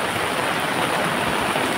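Floodwater from a swollen village river in Konkan rushes past in a loud, continuous roar of turbulent water that stays close and steady with no break.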